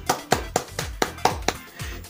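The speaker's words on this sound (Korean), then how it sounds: "자, 박수!" Hands clap in a quick, evenly spaced run of about seven sharp claps, close and moderately loud, with no talking over them.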